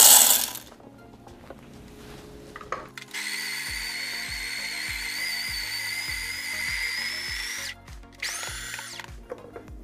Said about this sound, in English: So I made it at 1, and let's grind some beans.